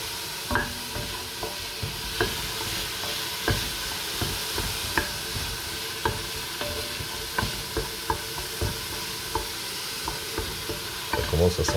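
Diced vegetables including courgettes gently sweating in a pan for soupe au pistou, a soft continuous sizzle broken by regular scraping stirs of a spoon against the pan.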